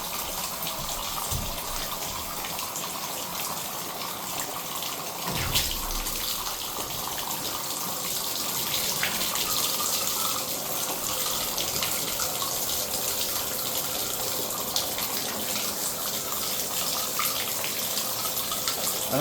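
Water pours steadily from the bathtub spout of a newly installed shower valve running at reduced pressure, a continuous loud gushing splash into the tub with no talk.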